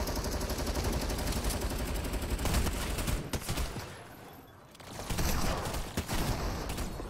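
Rapid automatic gunfire and shotgun blasts rattle in a Fortnite Team Brawl match, loud and continuous with a short lull near the middle before the firing resumes.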